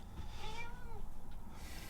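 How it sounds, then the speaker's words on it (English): A cat meows in a short, rising and falling call, close by over a low background rumble. "Come on, cat."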